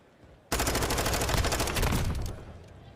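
Sustained automatic gunfire from a competitive Call of Duty League match, a rapid, loud, continuous burst of shots fired through a wall, starting abruptly and fading after about two seconds.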